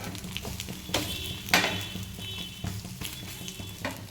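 Bread fries in a pan, giving a steady sizzle. Occasional clinks and scrapes of a utensil against the pan sound close by.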